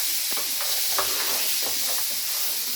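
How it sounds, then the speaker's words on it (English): Bacon and vegetables sizzle and fry in a pan while being stirred, a steady close hiss with soft scraping pulses from the spoon. "I want to stir the bacon and the veggies"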